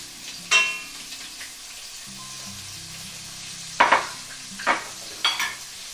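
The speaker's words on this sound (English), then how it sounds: "I'm just going to put my last 2 pieces of ahi in there." Two pieces of ahi tuna go into a hot pan on medium-high heat, giving a steady sizzle of frying with a few sharp louder pops and clatters of the pan, near and without talk.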